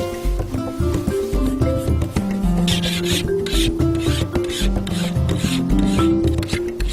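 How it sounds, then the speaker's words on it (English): A machete blade is sharpened with steady, rhythmic rasping strokes that scrape loudly and continuously, close up, on a beach setting. "Makes me a little nervous seeing you sharpen a machete"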